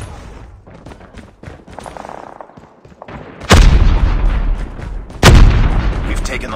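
Call of Duty Mobile battle with scattered gunfire and background game noise, then two loud booming grenade-like blasts a couple of seconds apart, close and heavy.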